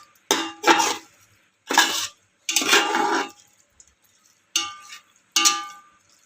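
Prawn biryani is mixed in a cooking pot: six short clusters of metal spoon scraping and clinking against the pot, close and fairly loud, separated by brief silences.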